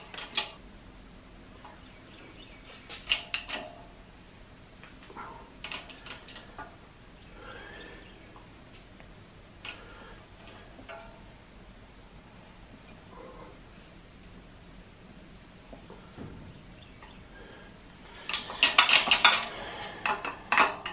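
A tube bender working metal tubing for a clawfoot tub shower enclosure gives faint creaks and metallic ticks, then a harsher scraping, rattling burst near the end.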